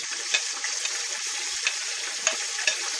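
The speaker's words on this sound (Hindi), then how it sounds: "अब हमारा प्याज ब्राउन हो गया और इसमें हम टमाटर डाल देंगे" Browned onions frying as tomatoes go into the pan for chana pulao, a steady bright sizzle close up with a few soft stirring clicks, no voices.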